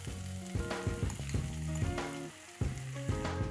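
Roughly chopped tomatoes sizzle in a pan with ginger for a tomato chutney, a steady frying hiss with light stirring under prominent melodic background music.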